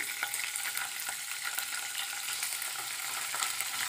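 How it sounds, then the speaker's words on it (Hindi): Small pieces of paneer roasting in a pan over a medium flame, a continuous bright sizzle with soft stirring scrapes, close and steady with no talking. "पनीर को हल्का रोस्ट होने तक चलाते रहेंगे"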